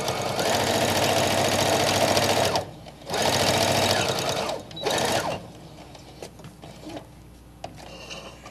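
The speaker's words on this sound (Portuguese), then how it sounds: "A gente faz questão de mostrar aqui o uso da máquina" A sewing machine stitches fabric for a scissor holder in two loud, steady runs of about two and a half and one and a half seconds, with a short burst after, then quiet handling noise.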